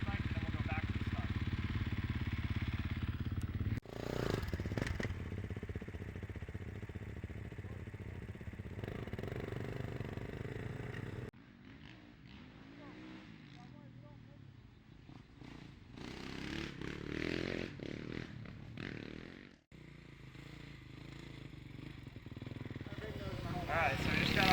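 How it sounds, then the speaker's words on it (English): Gas-powered motocross bikes, including a Kawasaki 450, riding laps on a dirt track, with engine drone rising and falling as the bikes pass, fading and cutting out at moments, and a voice talking over parts of it. "So we're gonna take these out now, do 4 laps, and kind of feel the track out again on a gas bike"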